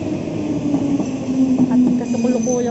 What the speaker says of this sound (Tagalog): Yan na yung tren, guys.